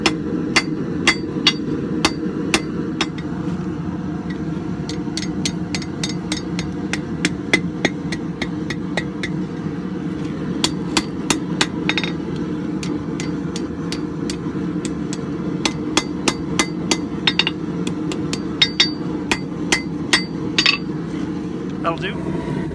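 Hammer striking hot steel on an anvil while forging a nail header, sharp ringing metallic blows in irregular bursts of rapid strikes with short pauses, close and loud over a steady roaring forge blower.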